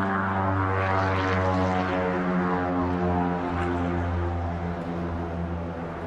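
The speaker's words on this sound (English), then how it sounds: "Sorry about the airplane overhead." Propeller airplane passing overhead outdoors, a steady loud droning hum with strong low harmonics that fades slightly toward the end, heard alone without talk, near a 2012 Victory HighBall motorcycle with a 106 cubic inch engine.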